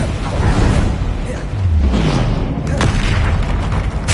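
Bombarda explosion spell in Hogwarts Legacy, booming blasts and crackling impacts over dense game noise, continuous and loud throughout.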